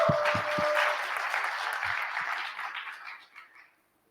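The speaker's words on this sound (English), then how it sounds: "Please clap for her as she begins her presentation." An audience at a youth ecopreneur award final applauds a presenter taking the stage, a burst of many hands clapping that thins out and fades to silence within a few seconds.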